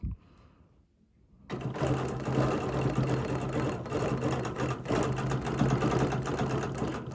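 A domestic sewing machine stitches continuously at a fast, even pace, loud and close, after a short quieter opening.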